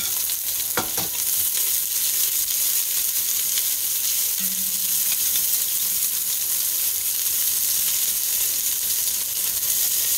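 Beef short ribs browning in a pan give off a steady, even sizzle and hiss that holds through the whole stretch, with a couple of faint clinks near the start and no talking.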